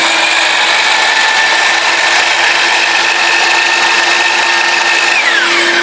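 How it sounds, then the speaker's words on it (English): A DeWalt power tool switched on and running loudly and steadily throughout, a constant whining motor hum with a slight pitch drop near the end, no voices. "you take the DeWalt, and it's very loud, so if I were to turn it on"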